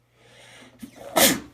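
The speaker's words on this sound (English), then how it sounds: "6 sneezes in a row." A single sharp sneeze bursts out near the mic after a brief breathy intake, one of a long run of repeated sneezes, close and loud with nothing else around it.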